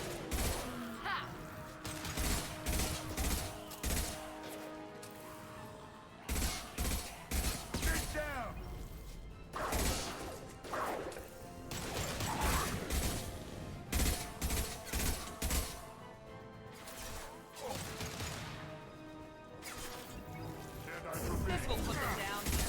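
Gunfire in Mass Effect 2 comes in repeated bursts of loud, clustered shots separated by short quieter gaps, mixed with game music and effects, and a voice talks in between.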